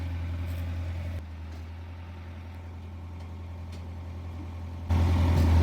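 An old Caterpillar bulldozer that sat for three years runs at a steady low idle, loud and close, with a brief drop in level before the engine swells back up near the end.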